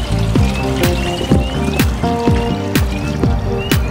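Nutrient tea water is poured back into the top of a garden tower, a steady close trickle with repeated dripping and gurgling the whole time.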